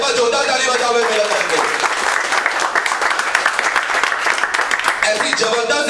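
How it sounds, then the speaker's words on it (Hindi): An audience in an Indian competition class bursts into loud, sustained clapping for several seconds, dense and close, with some voices mixed in beneath. "एक बार जोरदार ताली बजाओ"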